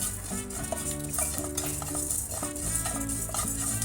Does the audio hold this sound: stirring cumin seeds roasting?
yes